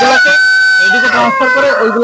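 A rooster on a Tiger chicken farm in Bagerhat, Bangladesh, crows loud and close, one drawn-out harmonic call filling the moment, with other fowl sounds mixed around it.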